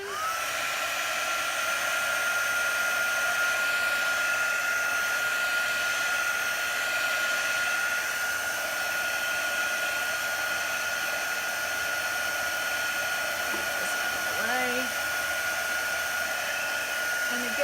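Heat tool blowing hot air over a chalk transfer on glass, a steady, loud, unbroken whirring hiss lasting the whole stretch, close to the microphone, with brief faint knocks near the end.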